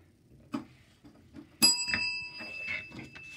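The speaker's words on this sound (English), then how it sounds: "I like the bell." A single bright bell ding rings out and lingers, its tone sustaining for a couple of seconds amid soft background murmurs and thumps.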